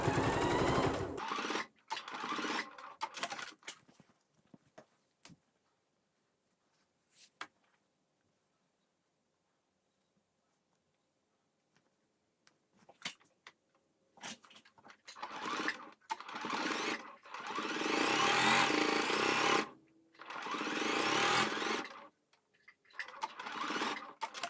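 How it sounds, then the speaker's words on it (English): A sewing machine back stitches a patchwork pot holder in short bursts of rapid rattling stitching, separated by pauses and a long quiet stretch, with the longest, loudest runs coming near the end. "I'm going to back stitch when I get up here to the top of my pocket too"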